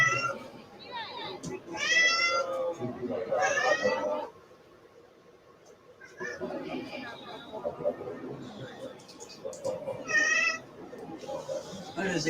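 A cat meows repeatedly at close range, several drawn-out calls spread across the stretch, with a person's voice heard in between.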